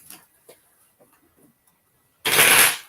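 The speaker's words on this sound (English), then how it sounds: "Let me shuffle these back up a little bit." A deck of playing cards riffle-shuffled once, a loud close burst near the end after faint handling taps and rustles.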